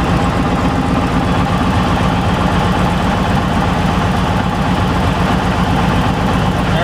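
Staggerwing biplane engine running steadily while the fuel supply is switched to another tank, a loud, continuous low rumble with an even droning throb throughout.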